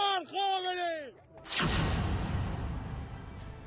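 Rebels fire on police in Iran's Bakhtiari province. A voice calls out, then a single loud, sharp gunshot bursts and rings out, with its echo slowly dying away.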